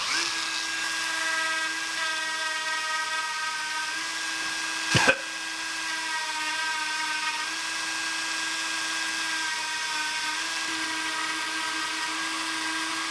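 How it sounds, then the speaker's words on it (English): A Dremel rotary tool with a sanding drum whines steadily at high speed while shaping a lipless crankbait, with one brief sharp knock midway, heard close and without talk. "Gonna do some work with a Dremel drum."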